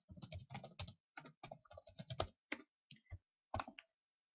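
Someone types a username on a computer keyboard: quick clusters of crisp key clicks in uneven bursts with short pauses, close and isolated in a quiet room.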